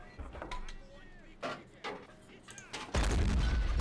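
In the Men of War war game, a Ju-87 dive bomber attacks an anti-aircraft gun with scattered booms and impacts, then a loud sustained blast near the end. Voices talk between the hits.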